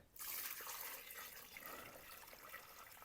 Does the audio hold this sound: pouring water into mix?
yes